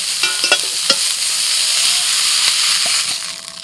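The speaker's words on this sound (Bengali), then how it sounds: "ব্রোকলি হালকা করে ভেজে নিয়েছি" Broccoli lightly frying in a wok gives a steady close sizzle, broken by a few sharp clinks and scrapes of stirring, with no voices.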